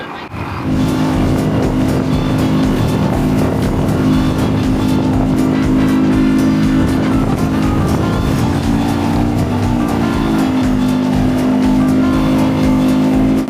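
A 52 hp outboard motor drives a 45-year-old Boston Whaler boat, a loud steady droning hum that holds throughout with a slight pitch shift near the end.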